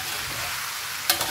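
Chicken stir-frying in a generous amount of oil in a wok for a Thai chicken dish, a steady broadband sizzle throughout with a brief sharp scrape or clatter near the end, no talking.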